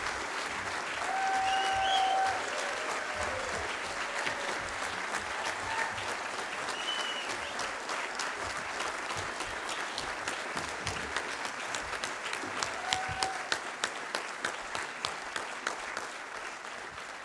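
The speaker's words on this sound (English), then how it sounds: "Please give them another round of applause." Sustained applause from a festival audience after a folk performance at Shrewsbury Folk Festival, a dense crowd clapping that carries on steadily for many seconds, with a few sharper individual claps standing out near the end.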